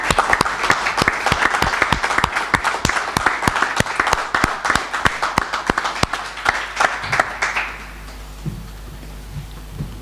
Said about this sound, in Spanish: yo lo que os pido es que me dediquéis un cariñosísimo aplauso dedicado a ellos